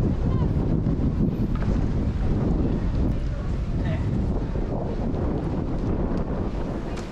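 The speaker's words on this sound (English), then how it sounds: "Whoa, it's gone super windy." Strong wind gusts roar steadily across the microphone in Cardiff city centre near a modern shopping mall, a loud continuous rumble that buries the background, with a person's voice briefly heard.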